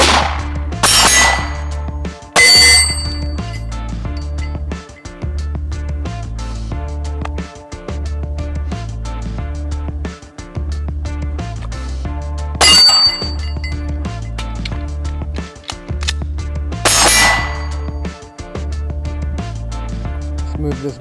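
Glock 19 pistol shots ring out on steel targets outdoors, sharp cracks followed by metallic clangs and pings in an irregular string of about five or six hits, with ringing tails between shots.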